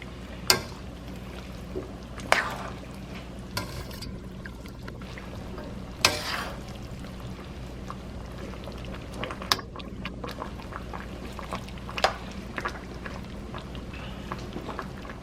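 Thai red beef curry with eggplant and long beans simmers in a pot, a soft continuous bubbling close by, broken by a handful of sharper clinks and pops.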